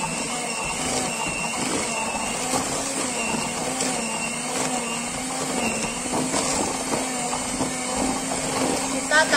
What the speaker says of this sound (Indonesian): Ini kita mixer, jangan terlalu lama ya guys, asal tercampur aja ya.